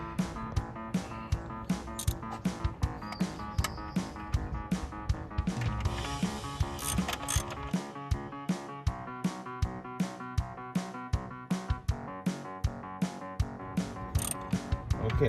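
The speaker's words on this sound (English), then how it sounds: "So I'm gonna start tightening this bolt." A ratchet wrench tightens a bolt on a 1993 Jeep Cherokee engine, with steady rapid clicking strokes close up and a few short pauses between bursts.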